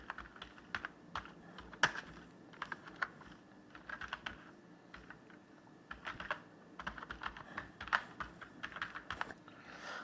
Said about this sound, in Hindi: आप यहाँ पे टाइप कर दें, और इसके बाद आप यहाँ पर ईमेल एड्रेस भी टाइप कर दें।